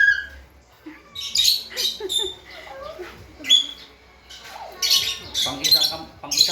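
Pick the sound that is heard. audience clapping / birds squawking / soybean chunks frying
birds squawking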